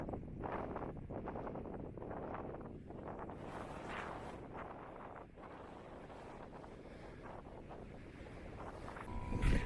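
Wind from an oncoming sandstorm roars steadily across the microphone on a remote Jeep trail, the Badge of Honor Trail, a constant loud buffeting rush with no voices.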